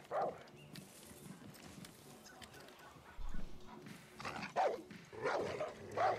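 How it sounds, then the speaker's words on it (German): Dogs bark in the video game Far Cry New Dawn, several sharp barking bursts at moderate distance, more frequent toward the end, amid game ambience and footsteps. "Können die Hunde auch hier hochkommen?"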